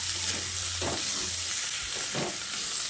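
Chicken frying in a pan with ground spices, coriander powder among them, stirred with a steady sizzling hiss and a few soft scraping strokes of the spoon.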